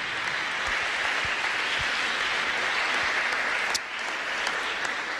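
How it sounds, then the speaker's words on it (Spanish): Audience applause closes a presentation at an international congress on poverty, hunger and emerging foods. Steady clapping from a sizable crowd fills the hall continuously for about five seconds with no talk over it. "Vale, un fuerte aplauso. Terminamos con el aplauso."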